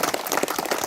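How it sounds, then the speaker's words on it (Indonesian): Applause from a group gathered at a vertical rescue school training session in Purwakarta, a steady dense patter of many hands clapping close by for just under a second, with no voices over it. "Tepuk tangan dulu untuk kita semua."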